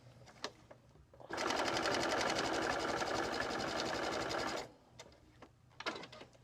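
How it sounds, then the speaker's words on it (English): A sewing machine stitches quilt pieces cut with an Accuquilt quarter-square die, running in one steady, loud, rapid burst of about three seconds, with quiet handling noises before and after. "Lower my presser foot, lower my needle,"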